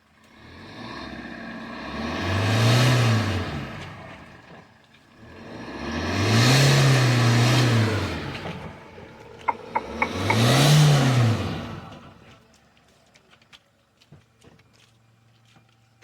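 Toyota Revo pickup with all four tyres stuck in clay mud, its engine revving hard in three long swelling surges, each rising and falling back, close by and loud, then quieter idling at the end.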